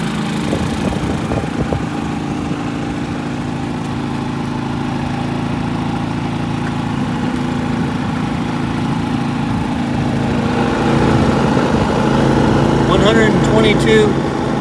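Predator 3500 portable generator engine running nearby and revving higher after an air conditioner compressor kicks on, with a steady droning hum and a rise in pitch and loudness near the end, with people talking over it.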